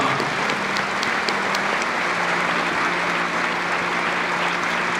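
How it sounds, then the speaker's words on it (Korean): A congregation claps loudly and steadily for newly ordained pastors at a KAICAM ordination service, dense continuous applause filling the hall without pause. "인사하실 때 큰 박수로 격려해 주시기 바랍니다"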